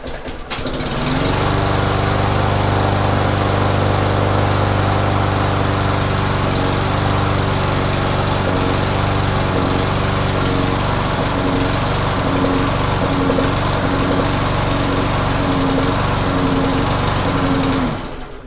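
A Briggs & Stratton 4.5 hp lawn mower engine running steadily after a carburetor clean, a loud, close, continuous buzzing drone with a fast rhythmic chug that holds throughout.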